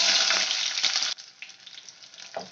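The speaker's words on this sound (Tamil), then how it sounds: "வெங்காயத்தை நல்லா வதக்கிக்கலாம்" Loud, close sizzling of a handful of small onions hitting hot oil for a prawn curry, the hiss dropping sharply after a moment to a quieter, steady frying crackle.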